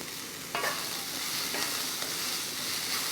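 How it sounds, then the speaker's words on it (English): Onions and banana peels sautéing over medium heat, a soft steady sizzle broken by a few distinct scraping stirs in the pan, fairly quiet overall. "We're going to saute them for 5 minutes, not more than that, medium heat."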